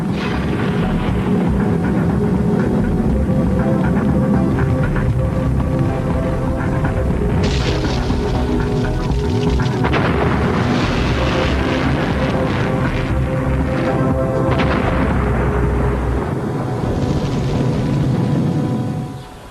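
Loud, sustained rumbling roar with several heavy booming bursts, like repeated explosions, continuing for a long stretch before cutting off.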